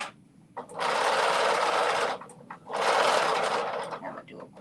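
A domestic sewing machine runs two quick bursts of about a second each, stitching and reversing for a short back stitch on a dress top, loud and close with brief pauses between.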